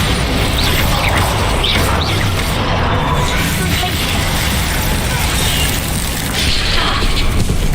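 Bombarda spell explosions and combat effects in the video game Hogwarts Legacy, a dense, loud, continuous barrage of booms and crashes with a few brief whooshing sweeps.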